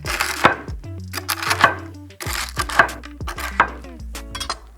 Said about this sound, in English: I'm just gonna chop it into little chunks